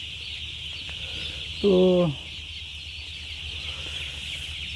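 A single short cluck-like call rings out briefly over a steady background hum in a poultry farm shed holding two-day-old chicks, with a faint word spoken.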